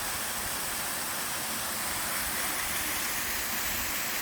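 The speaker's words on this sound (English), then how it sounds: "This is me, and this is the waterfall" Craigie Linn waterfall in Glen Park pours steadily, a broad, even rushing hiss heard fairly close and alone, with no talking.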